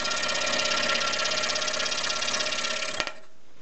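A scroll saw cutting a workpiece hums with a steady, buzzy mechanical drone for about three seconds, then stops abruptly with a small click, leaving a faint hiss; no talking.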